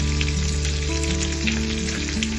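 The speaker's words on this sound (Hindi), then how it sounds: "इसको मैं अभी फ्राई करूँगी।" Sliced red onion rings frying in a tablespoon of olive oil, a dense, steady sizzle at close range with no speech.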